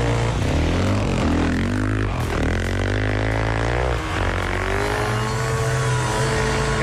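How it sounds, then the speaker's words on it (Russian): A loud car engine revving continuously, its pitch rising and falling through several throttle surges, close and dominating throughout. "Мне нравится звук этого мотора"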